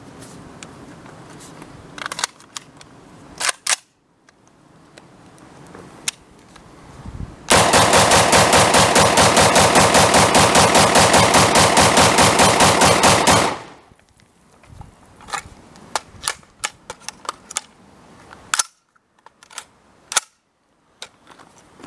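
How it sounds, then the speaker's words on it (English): A polymer IMI Defense AR rifle fires 30 rounds as fast as possible in one loud, continuous rattling burst lasting several seconds, framed by scattered metallic clicks and handling noises before and after. "We're going to go ahead and fire 30 rounds, rapid fire of a polymer IMI Defense 30-round magazine."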